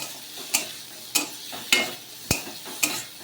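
Cabbage frying in butter in a pan, stirred with a utensil that strikes the pan in five sharp, evenly spaced scrapes over a soft steady sizzle.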